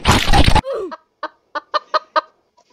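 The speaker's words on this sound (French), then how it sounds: "Un poulet. Et un poulet." A chicken in Roblox Escape the Castle gives a string of short, clipped clucks, about six evenly spaced in quick succession, right after a brief burst of loud noise.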